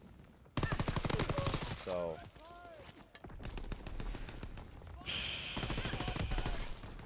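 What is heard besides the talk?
gunfire in video game Call of Duty WWII multiplayer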